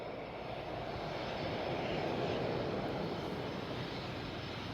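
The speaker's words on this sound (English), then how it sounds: "How long does it take for this plane to get off the ground?" A Loganair airplane takes off at Glasgow Airport, a steady, loud engine roar that builds slightly and holds without breaks, heard from a plane-spotting spot with no talk.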